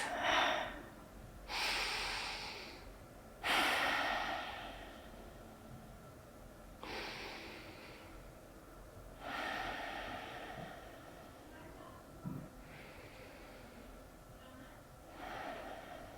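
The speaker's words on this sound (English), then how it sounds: "Settle in for a couple of breaths." Slow, deep breathing during a guided relaxation, several long audible inhales and exhales spaced a few seconds apart, soft and close.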